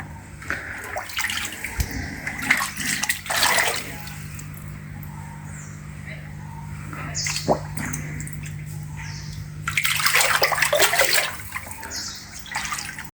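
Water pouring into a large glass aquarium tank for big fish, a fairly close splashing rush that swells in bursts and settles into a steadier flow, with no talking.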